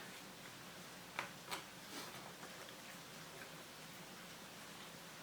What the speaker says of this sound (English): Sorry about the rain sound in the background.